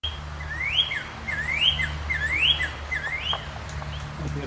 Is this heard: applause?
no